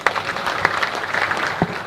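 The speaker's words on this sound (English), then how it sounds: "Could we again give them a round of applause?" An audience at a Nyanza investment conference gives a round of applause, a brief burst of dense, even clapping sustained across the whole moment with no speech over it.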